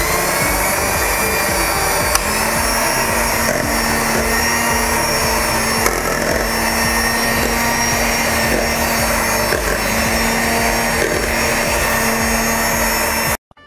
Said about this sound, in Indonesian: Akan kita mixer kembali dengan kecepatan tinggi kurang lebih 5-7 menit hingga adonan ini benar-benar kental dan mengembang.